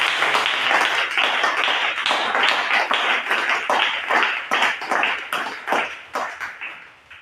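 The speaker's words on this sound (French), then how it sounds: "On acclame pour le Seigneur Jésus." A church congregation applauds for the Lord Jesus, a loud, dense wash of many hands clapping steadily for about seven seconds before thinning out and fading toward the end.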